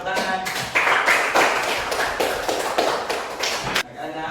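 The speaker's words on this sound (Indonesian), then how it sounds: "Semua tepuk tangan." A class of schoolchildren claps together in a classroom after a presentation, a dense, steady patter of many hands lasting about four seconds, then dropping off sharply near the end.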